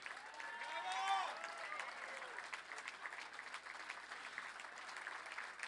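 Audience at a Montréal wine event applauding restaurateurs, steady moderate clapping throughout, with a voice and crowd chatter rising over it early on.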